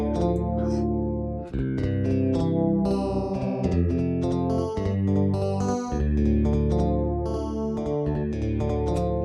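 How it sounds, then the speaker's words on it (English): Layered, wavering music through a double-tracking plugin with a thick chorus-like shimmer, narrow stereo spread and slight pitch drift, playing steadily and fairly loud with no voices. "So now it starts to sound a bit chorusy with less stereo spread."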